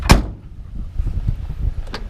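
The passenger door of a 1971 Ford F250 Camper Special bumpside truck shuts with a sharp, close, solid thud, followed by faint rattles and a second lighter knock near the end.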